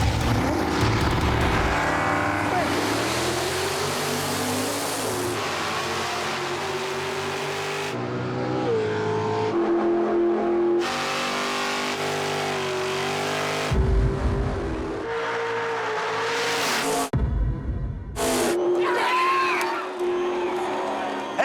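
Drag race cars at a Pinks All Out event roaring down the strip, loud engines revving and shifting through repeated surges and cutoffs, with crowd noise and commentary voices over the din.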